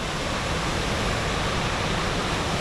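Rushing river water at the Sinks in the Smoky Mountains pours in a dense, steady roar that fills the whole clip loudly and evenly, with no voices over it.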